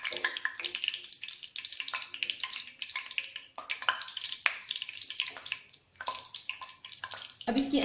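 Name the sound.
spices frying in a pan for spinach rice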